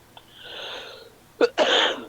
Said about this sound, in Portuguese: E é uma tosse seca, chata.